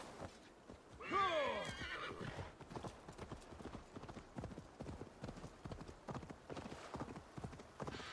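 In Assassin's Creed Valhalla, a horse gives a loud, close whinny near the start, then its hooves clop in a steady rhythmic gait for the rest of the stretch.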